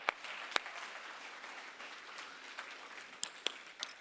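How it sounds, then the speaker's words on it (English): Scattered applause from an audience, a steady wash of clapping with a few sharper claps standing out, moderately distant and fairly quiet. "Let's give our team a big round of applause"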